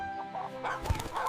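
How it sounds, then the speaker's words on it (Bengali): A chicken clucks while chasing a dog, giving a short, loud burst of agitated clucks near the end after a quieter start. "মুরগির ভয়ে কুকুরের পলায়ন।"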